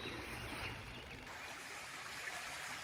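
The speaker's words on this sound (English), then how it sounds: "where the creek water comes through a culvert and there's a bridge" Creek water pouring through a culvert under a bridge in the Georgia mountains, a soft, steady rushing flow heard at a distance, faint and continuous, with no talk.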